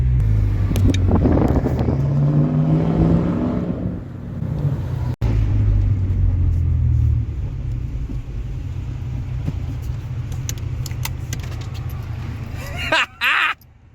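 A Toyota 4.7-litre V8 with a full 3-inch straight-pipe exhaust rumbles deeply at a loud idle, with revving swells early on. Some brief clatter and a few voices come near the end.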